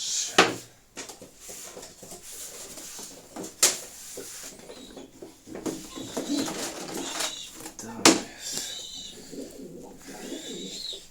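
Sport pigeons coo softly in a loft, with scattered murmuring calls among sharp clatters and knocks like a door or cage being handled, and faint speech in the background.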